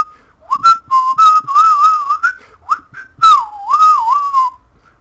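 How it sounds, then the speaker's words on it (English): A person whistles a lively rendition of Steamboat Willie alone, clear and close, with quick melodic phrases and brief breaths between. "I also like to whistle"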